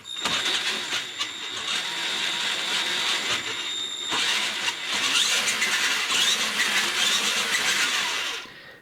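A vintage Tamiya Clodbuster RC monster truck runs its motor and gears with a loud, continuous high-pitched whine and gear rattle, its pitch rising and falling as the throttle changes.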